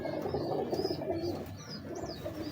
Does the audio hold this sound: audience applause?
no